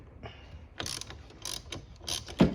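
A ratchet loosens the battery cable terminals on a 2011 Ford Focus, giving quiet, close bursts of rapid clicking separated by short pauses.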